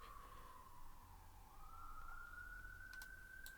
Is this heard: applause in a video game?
no